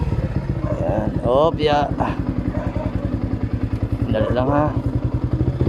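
A large motorcycle idles and chugs with a steady rhythmic thump as it slowly turns on a narrow village road, the engine constant throughout under brief talk.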